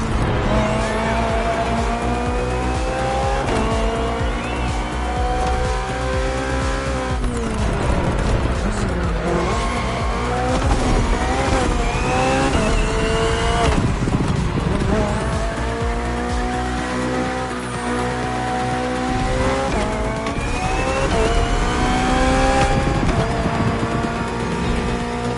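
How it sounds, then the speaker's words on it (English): BMW hybrid V8 race car in The Crew Motorfest video game, its engine droning loud and continuous through rising and falling gear changes, with tire squeal and skidding over a steady game soundtrack. "Just focus on being the best. The hybrid V8 will do the rest."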